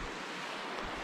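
Rushing water of Ten Mile Creek, a mountain stream beside a small campground on Idaho's Centennial Trail, roars as a steady, close, broadband wash with no voices.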